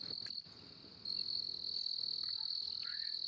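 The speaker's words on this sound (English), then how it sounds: "Crickets and birds and various animals and such." A steady, shrill cricket chorus fills a quiet night, with faint croaks and small animal sounds scattered underneath.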